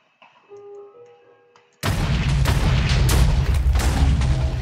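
A flare gun fired in a modded Minecraft game bursts into a loud, sustained roar with repeated booming pulses, after a short, quiet stretch of soft tones.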